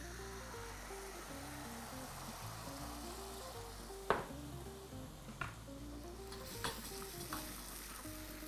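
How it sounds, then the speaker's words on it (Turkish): Cream poured into a frying pan over olive oil and garlic sets off a steady sizzle, with several sharp clinks of a utensil against the pan breaking through. "Sarımsağın hemen üzerine çok da yanmasına müsaade etmeden kremayı döküyorum."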